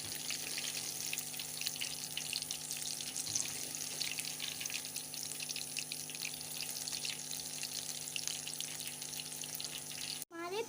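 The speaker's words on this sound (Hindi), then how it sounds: "गरम हो चुका है, अब हम इसे फ्राई करेंगे।" Pakoras fry in hot oil on a stove, a loud, dense, continuous crackling sizzle that holds steady close up throughout, ending in a brief clatter.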